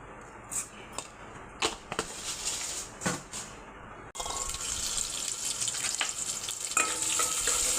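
Mustard seeds dropped into hot sesame oil crackle and sizzle in a home kitchen pan, a few sharp pops first, then a loud steady frying hiss close up, with no talking over it.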